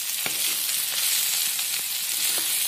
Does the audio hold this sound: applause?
no